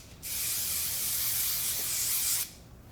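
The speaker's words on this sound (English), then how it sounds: "A little bit of hairspray." A single continuous burst of hairspray hisses from an aerosol can for about two seconds, close and steady, then stops abruptly, with a quiet room around it.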